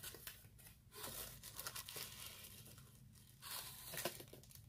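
Tissue paper being crumpled and torn while unpacking action figures, bursts of crinkling and tearing rustle close up, fairly quiet and uneven, with no talking.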